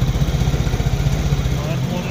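Kymco VJR motor scooter engine idling smoothly up close, a steady low pulsing putter with even rhythm; a voice talks over it.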